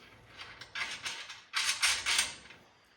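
A washer and castle nut are threaded and snugged onto the wheel spindle of a 1975–79 Nova X-Body, giving close metallic scraping, ratcheting clicks in short bursts with brief pauses.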